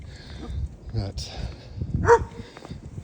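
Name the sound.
dog barking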